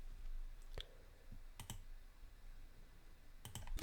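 Sparse, faint clicks of a computer mouse selecting spreadsheet columns, a few single and paired clicks over a low room hum, with no talk.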